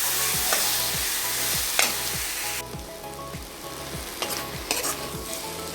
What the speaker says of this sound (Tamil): சேர்த்து இதையும் கொஞ்சம் நல்லா வதக்கி விடுங்க